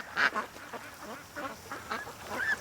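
Ducks quack repeatedly on the water, several short nasal calls in uneven bursts, fairly close and moderately loud over quiet background.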